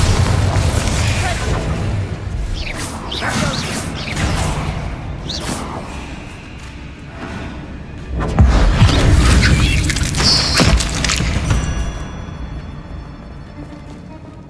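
A Bombarda blasting spell from the Hogwarts Legacy video game goes off as a deep booming explosion with a heavy low-end surge, amid other game spell effects, whooshes and a spoken incantation.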